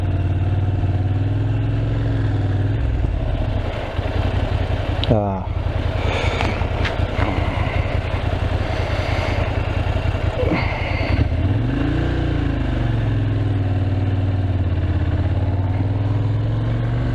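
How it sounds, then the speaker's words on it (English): A Moto Guzzi Griso motorcycle engine, clutch just repaired, runs steadily throughout, with a brief mechanical clatter and some revving as it pulls away, loud and close. "I'm back on the Guzzi. It's just been repaired. It's had its clutch fixed."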